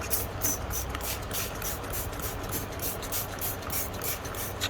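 Parts cleaner sprayed from a bottle during a Ford Escape rear differential service: repeated short hissing bursts in a fairly quick rhythm, close and moderately quiet, with no talking.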